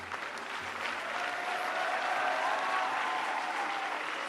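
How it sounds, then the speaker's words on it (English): An audience at a hackathon valedictory session applauds participants with steady, dense clapping that swells slightly and holds evenly, filling the room without any talk on top. "So I request you to kindly applaud them."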